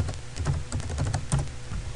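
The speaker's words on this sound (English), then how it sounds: "Type your default gateway into your web browser," Rapid, dense keystrokes on a computer keyboard, close and steady for the whole stretch with a few louder clacks, no voices.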